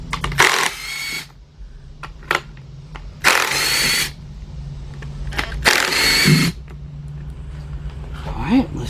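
An 8mm socket on a power driver backs out four bolts from a Chevy Equinox / Buick Rendezvous engine during a head gasket and timing chain rebuild. Three loud whirring bursts are separated by quieter clicks and shop noise.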